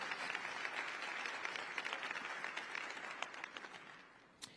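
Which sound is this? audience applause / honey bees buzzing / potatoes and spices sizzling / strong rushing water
audience applause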